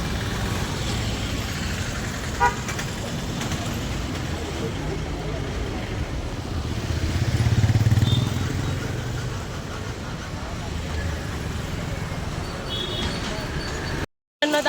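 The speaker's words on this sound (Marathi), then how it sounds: "ट्रॅफिक" Road traffic in Mangaon on the way to a haldi-ceremony performance, with motorcycles among the vehicles: a steady, fairly close rumble of passing engines that swells briefly around the middle, with faint voices underneath.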